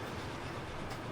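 A train rolls past in the Transport Fever 2 video game, a steady low rumbling clatter of wheels on track filling the whole moment at moderate, even loudness.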